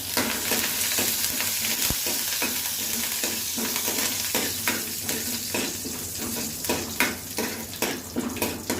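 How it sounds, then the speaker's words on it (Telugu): Curry leaves crackle and sizzle in hot oil for a tempering, a dense, loud frying hiss with irregular pops and spatters that grow more distinct toward the end. "కరివేపాకు వేసుకొని ఇలా తిరగమాత వేసుకోవాలి."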